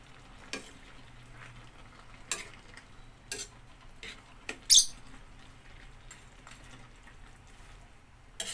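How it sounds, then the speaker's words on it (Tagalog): Ginataang gulay vegetables stirred gently in a pan, a faint background sizzle broken by scattered sharp clicks and scrapes of a utensil against the pan, irregular and quiet, with no talk. "Haluin lang natin ng bahagya."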